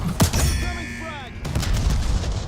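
A frag grenade detonates in a video game, a sharp booming blast early on followed by gunfire-like cracks and rumbling action, with in-game tonal effects in between.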